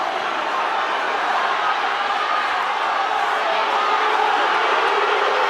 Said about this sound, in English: Crowd going berserk